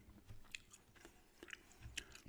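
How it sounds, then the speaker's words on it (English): Soft, close chewing of gum with a few sharp wet clicks and smacks scattered irregularly over a quiet background, no talking. "Doing a gum chewing ramble here today"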